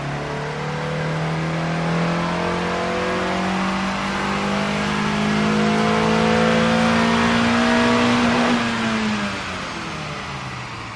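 A Honda car engine revs steadily on a dyno run, the pitch climbing for several seconds, then cutting off and dropping away; loud and close, with no talking.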